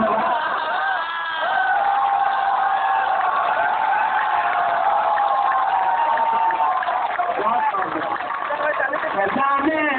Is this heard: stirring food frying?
no